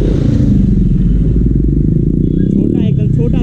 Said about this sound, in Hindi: देखो उसके एग्जॉस्ट का साउंड सुन रहे हो